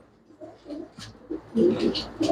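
Several domestic pigeons of a pure breed coo in soft, low bursts close by, with the calls growing louder and fuller toward the end amid some background rustle.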